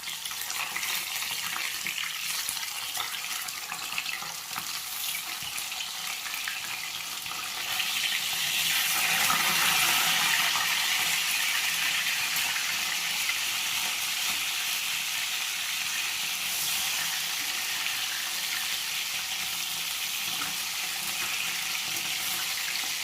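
Katla fish frying in a pan of oil, giving a continuous bright sizzle that swells louder partway through and holds steady, with no voices.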